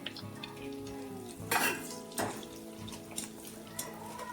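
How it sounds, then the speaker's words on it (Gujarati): Sabudana and potato chakri fry in smoking-hot oil with a quiet, continuous sizzle. Soft utensil clinks and a couple of louder splashy bursts sound as pieces go in or are turned. "તેલમાં ધુમાડા નીકળે પછી જ આપણી ચકરીને આ રીતે તળવાની રહેશે"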